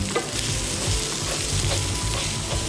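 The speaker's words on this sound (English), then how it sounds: "we're going to let our onions cook until they start to caramelize" Onions cooking in a pan toward caramelizing for baked chicken and rice, a loud, dense, continuous sizzle heard up close and alone, with faint stirring underneath.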